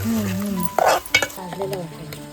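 A short burst of masala spices crackling and sizzling in hot oil for tempering, with quick stirring scrapes.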